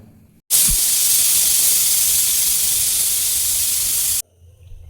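A pressure cooker whistle on the stove while dal cooks, a loud, steady hiss of escaping steam that starts abruptly, holds for about four seconds and cuts off sharply. It is heard alone, with no talk.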